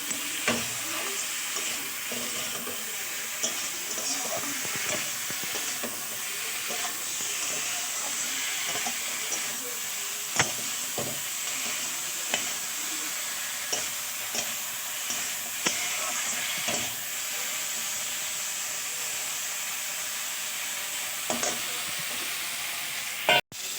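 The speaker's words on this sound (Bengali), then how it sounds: "আমি মাছটাকে দিয়ে একটু এটা একসাথে কষা করবো মশলা দিয়ে" Shol fish frying with spice paste in hot oil, a steady close sizzle with intermittent stirring scrapes and clinks of a utensil against the pan, continuous throughout with no talking.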